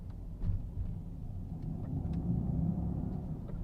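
A low, steady motor rumble fills the cabin of a Mercedes-AMG EQE 43 electric car in Sport Plus mode, swelling slightly louder midway, with faint clicks and no talking.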